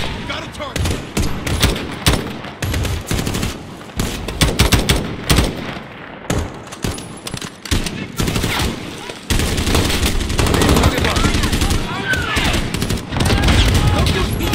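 Dense video game gunfire in Under Siege on realism difficulty during an embassy mission: rapid fusillades and machine-gun bursts with heavy booms, loud and continuous, under occasional radio-style talk.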